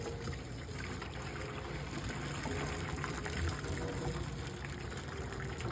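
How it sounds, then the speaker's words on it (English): Boiling water is poured out of a pot of eggs into a kitchen sink, a quiet, continuous gushing trickle that stays even and unbroken throughout, with no voices. "I'm gonna pour out most of this water."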